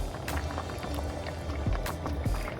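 Jamaican brown stew chicken simmering in a pot, a steady low bubbling with scattered soft pops and drips, close and continuous, with no voices.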